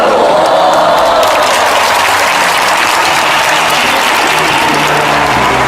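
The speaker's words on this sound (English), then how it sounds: "that crowd reaction tells you what a popular winner he is" A large crowd cheers and applauds Olympic gold medalist gymnast Carlo Yulo, a loud, sustained roar of clapping with whoops throughout.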